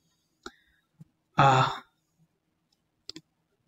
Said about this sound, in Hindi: यहाँ पे क्लिक करूंगा